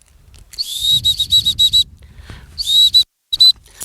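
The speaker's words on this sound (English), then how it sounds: "Every single time we feed, we use the recall whistle." Shrill high-pitched dog recall whistle blasts in quick bursts at gundog pup feeding, a series of short pips then a second run, loud and close with faint rustling between.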